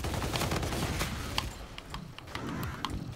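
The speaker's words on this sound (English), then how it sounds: "I got these fucking dope ass machine guns." Rapid machine gun fire in Call of Duty: Infinite Warfare, dense bursts of gunshots with thuds and booms crowding the whole stretch at steady loudness.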